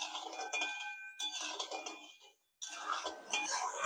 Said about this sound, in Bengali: চিনিটা ভালো করে নেড়ে চেড়ে এবারে জলের সাথে মিশিয়ে গলিয়ে নেব।